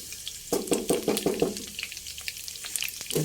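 Garlic sizzling as it hits the oil in a hot pan at the start of a Filipino pork dish, a quick run of close, crackling spatters that settle into a lighter hiss.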